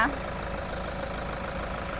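A 2018 Toyota Commuter van with a 3.0 diesel engine idles in a steady, even drone that holds constant from start to finish, with a brief faint chirp at the very beginning.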